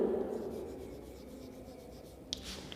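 Pen or marker writing a word on a surface during a science lesson, a soft continuous rubbing scratch with a couple of faint taps near the end, close and quiet, with no voices.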